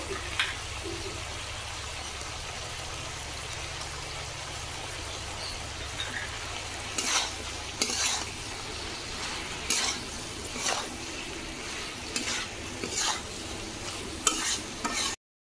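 Bottle gourd stems and potatoes are stir-fried with spices in a pan: a soft, steady sizzle runs throughout, broken by sharp, irregular spatula scrapes and stirring strokes that grow more frequent toward the end.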